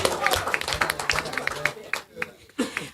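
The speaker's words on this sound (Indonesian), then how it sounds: "Boleh dong sekali-sekali tepuk tangan buat perempuan." Audience applause at an Indonesian talk, a dense run of clapping that stays fairly loud for about two seconds, then thins and pauses before a brief burst resumes, with voices mixed underneath.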